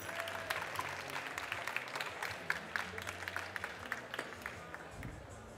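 An audience at a French barista competition applauds the espressos, a steady patter of many hands clapping with sharper individual claps, moderately distant and sustained throughout.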